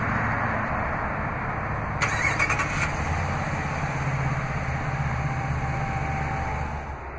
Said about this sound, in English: Just double press the remote start button on the key fob.